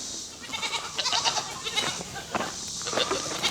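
Several goats bleat repeatedly on a homestead, with overlapping calls of varying pitch, fairly close and moderately loud, and no talking over them.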